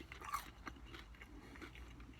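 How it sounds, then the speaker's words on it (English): Crunchy bites and chewing of KFC Nashville Hot chicken tenders, with a sharper crunch near the start followed by quieter repeated chewing sounds, close and faint. "I don't know if you can hear the crunch"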